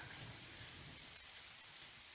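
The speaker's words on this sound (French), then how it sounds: "je suis dans le sud, il pleut comme ça" Steady rain falling at night in the south of France, a continuous soft hiss of drops with no voices.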